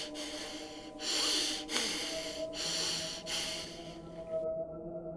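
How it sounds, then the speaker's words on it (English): Laboured, rasping breaths beside someone in pain come in several heavy pulses of roughly a second each, fairly close and fading at the end, with no talking. "there was the faint sound of laboured breathing beside me."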